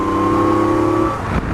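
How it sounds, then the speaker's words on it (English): A Yamaha MT-09 motorcycle engine holds a steady, high-pitched rev for about a second before the note drops away, close and loud throughout. "as you get higher up in the RPM range, the noise kind of goes deeper,"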